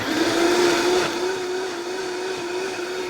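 A blender runs at high speed, a loud, steady whine with a constant pitch and a dense whirring roar, close up and uninterrupted.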